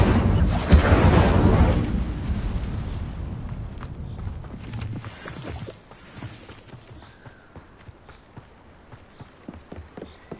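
Incendio fire spell cast in Hogwarts Legacy, a loud roaring whoosh of flame bursting at the start and fading into crackling over several seconds, alone without voices.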